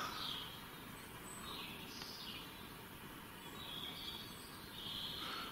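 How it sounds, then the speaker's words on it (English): Birds sing and chirp in scattered bursts outdoors, moderately distant over a steady low rumble of background noise. "Nice to hear the birds though."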